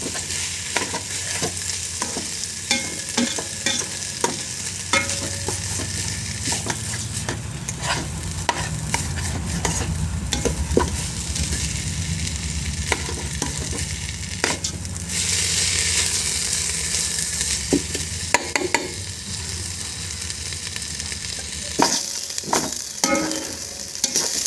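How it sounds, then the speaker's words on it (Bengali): Rice for Bengali khichuri slowly frying in a pan on low heat, with a steady sizzle and constant close scraping and stirring that rises and falls throughout. "এভাবে চুলার আঁচ খুবই আস্তে দিতে হবে, আস্তে দিয়ে এভাবে আস্তে আস্তে ভেজে নিতে হবে চাউলগুলো"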